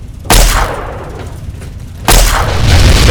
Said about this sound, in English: Where's the cool explosion at?